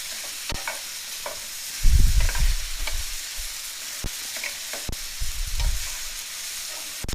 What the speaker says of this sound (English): we're going to give the peppers and onions a chance to also saute and caramelize